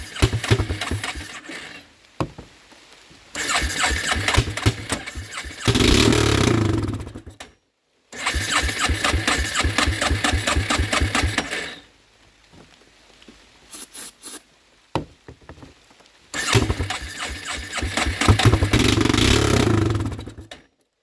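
A straight-piped four-wheeler ATV engine with a carburetor needing tuning runs loud and close in rough bursts, each a rapid choppy putter lasting a few seconds, separated by brief near-silent gaps.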